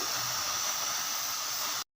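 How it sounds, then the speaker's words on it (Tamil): Steam hisses steadily from a pot of boiling rice on a stove, a loud, close, even rush of noise lasting under two seconds before cutting off abruptly. "தண்ணி வெளியில் வர்றதோடு ஸ்டீம் வருது பார்த்திங்களா"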